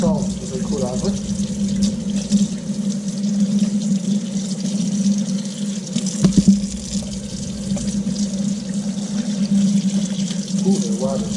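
Steady running tap water splashes continuously into a sink, washing salt out of salted Arctic char, with a brief knock partway through and faint speech in the background.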